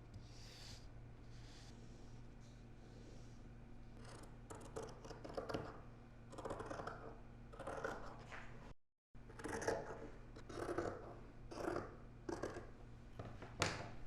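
Scissors snip through linen fabric along a traced tank-top back pattern, a run of close, crisp cutting strokes coming in bursts, with a brief silent gap partway through and no talking.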